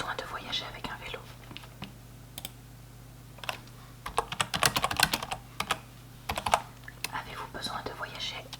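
Keys tapped on a computer keyboard at a train ticket counter, sparse clicks at first building into a brisk close run of typing, with soft whispered speech over parts of it.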